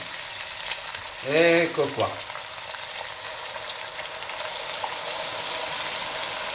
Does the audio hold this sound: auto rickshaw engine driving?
no